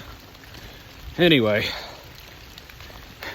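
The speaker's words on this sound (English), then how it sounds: "as you can see, it's wet. It's rainy." Steady rain falls outdoors during a rucking walk between two thunderstorm cells under a tornado watch, a constant soft wash running throughout beneath a man's brief spoken word.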